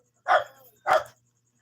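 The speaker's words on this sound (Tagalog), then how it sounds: "The dog is tahol-tahol." Dog barking twice, two short close barks about half a second apart, fairly quiet and with no talking.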